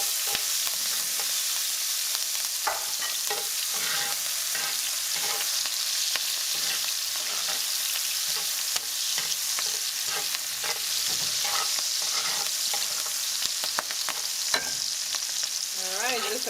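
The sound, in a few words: chilies roasting and sauteing in a pan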